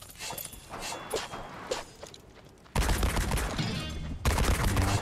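Gunfire from enemies in the video game Wizard with a Gun comes in rapid bursts of shots over busy game sounds, quieter at first and then louder and denser for the rest of the clip.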